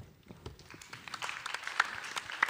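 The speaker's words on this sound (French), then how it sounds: "On peut l'applaudir." Audience applause at a French public conference, starting faint and building into scattered clapping with a few crisp claps near the end, fairly quiet overall.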